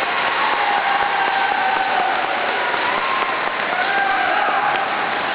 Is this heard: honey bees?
no